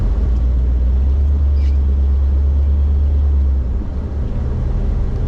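A hot rod wagon's engine rumbles loud and close, a steady low idle that drops off as the car starts rolling, with a brief higher rattle partway through.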